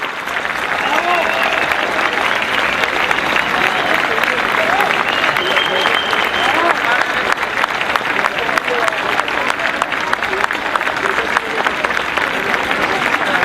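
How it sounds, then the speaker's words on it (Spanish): Audience applauding a rondalla folk band at an Aragonese Pilar festival performance, sustained loud clapping from a crowd with some voices and cheers mixed in throughout. "aplauso para nuestra rondalla"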